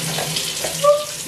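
Cold water runs from a sink tap, rinsing a hoya plant's pot through, a steady broadband splashing flow heard close up throughout with a faint brief ringing tone near the end.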